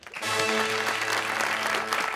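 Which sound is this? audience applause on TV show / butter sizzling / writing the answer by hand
audience applause on TV show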